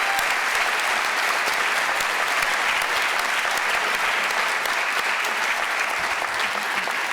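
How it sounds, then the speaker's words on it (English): Dense, sustained audience applause for teachers at a student career and technical education awards ceremony, a loud continuous roar of many hands clapping with no talk. "let's give them a big round of applause"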